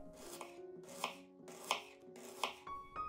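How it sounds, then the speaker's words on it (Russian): A knife chops red salad onion into half rings on a cutting board. Four or five crisp, evenly spaced strokes sound close up, with no talking. "Красный салатный лук нарезаю полукольцами"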